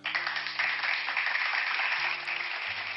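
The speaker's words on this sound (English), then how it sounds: "give a warm round of applause as I introduce my guest for today, Ecka" Audience applause welcoming a podcast guest, a steady dense wash of clapping held for a few seconds, with low musical tones running underneath.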